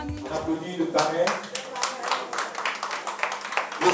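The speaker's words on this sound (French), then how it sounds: "On applaudit le parrain" An audience at a book signing event claps for the sponsor, a brisk patter of applause from a modest crowd while a voice carries over it.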